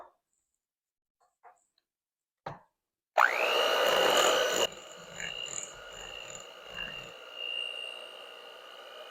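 An electric mixer churns peanut butter and jelly cupcake batter in a bowl. It starts suddenly after a quiet pause with a loud whirring burst, then settles into a softer, uneven churning with light knocks and scrapes.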